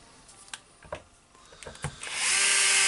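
Makita HR2811F rotary hammer drill made in 2007: a few light handling clicks, then the motor starts and runs as a loud, steady, close whine.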